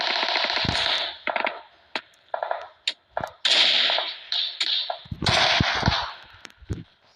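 Rapid bursts of gunfire sound during a PUBG firefight, with several dense automatic volleys and scattered single shots, loud and close, with gaps of near-silence between them.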